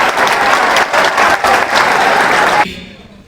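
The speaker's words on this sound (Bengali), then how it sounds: "ওরা ঠিক আছে, একটা হাততালি হবে ফর দিস" Audience applause in a school classroom, a dense burst of many hands clapping at once that stays loud and steady before cutting off abruptly and fading into quiet room tone.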